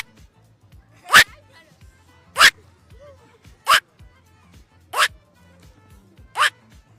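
A man imitates the night call of the woak bird, a sharp, breathy cry repeated five times at an even pace, each burst loud and close, with quiet gaps between.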